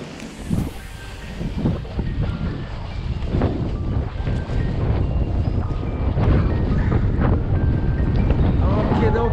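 Wind at a paragliding take-off site in Annecy, France: steady, loud gusty buffeting across the microphone, building slightly over about nine seconds with no clear talk.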